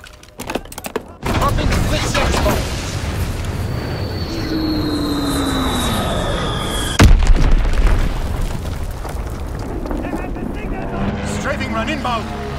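Bombs from a killstreak in Call of Duty: WWII hardcore team deathmatch explode in a loud rumbling roar with one sharp heavy blast midway, over droning aircraft and steady engine noise, with a voice speaking at times.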